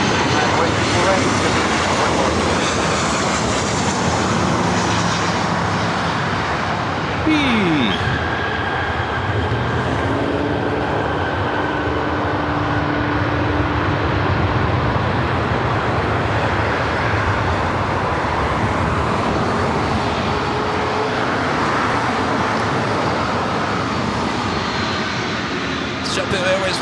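Aircraft engine noise from a JetBlue Airbus A321neo landing at LAX runs steadily throughout, mixed with faint tower radio chatter and a nearby voice.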